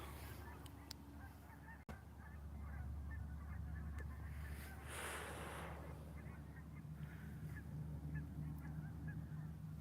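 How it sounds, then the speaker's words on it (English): Geese flying south honk repeatedly in the distance, faint calls scattered over steady wind rumble and outdoor background noise. "Geese are flying south for the winter right there."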